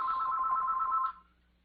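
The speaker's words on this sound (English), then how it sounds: "we've got the telephone on, making a lot of noise" A telephone rings with a steady electronic bell tone, moderately loud and close, holding for about a second before stopping abruptly and leaving only faint room hum.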